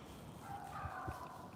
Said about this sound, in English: That dog started barking right on cue.